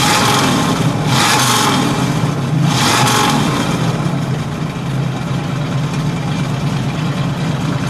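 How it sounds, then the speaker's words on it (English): A 1963 Buick Wildcat's 401 engine revs loudly and hard twice in quick succession, then settles into a steady, heavy rumble. "let's give it a rev"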